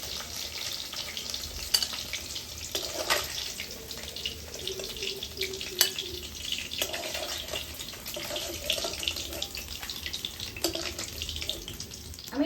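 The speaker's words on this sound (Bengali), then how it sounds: "দেখো আমি এইভাবে কিন্তু সব মাছগুলোকে ভেজে নেব।" Live tengra catfish frying in hot oil, a steady close crackle and hiss with occasional sharper pops, continuous throughout with no talk.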